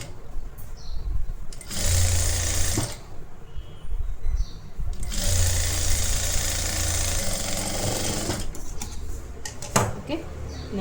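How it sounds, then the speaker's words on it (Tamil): A sewing machine stitches a blouse lining, running in two long bursts of rapid mechanical whirring with pauses between, close by, with a voice speaking during the gaps. "கரெக்டாக 1/2 இன்ச்சஸ் ஸ்டிச் பண்ணிக்கோங்க"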